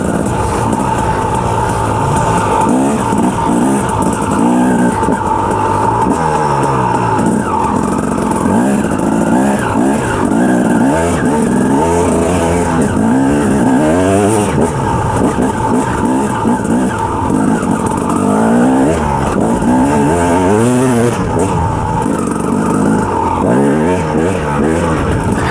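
A 2007 KTM 250 EXC dirt bike revs hard over rocky ground, its loud, buzzing engine surging and dropping repeatedly in close, steady bursts throughout.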